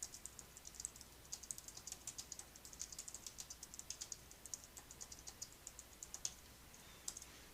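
Quiet computer keyboard keys tapped in a steady, close run of light clicks, with small pauses between bursts, no talking over it.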